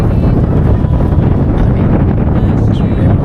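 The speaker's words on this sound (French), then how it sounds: "Et là il pleut encore, il fait du vent." Strong wind buffets the microphone on a rainy day at Mont Saint-Michel, a loud continuous roar and rumble with no speech over it.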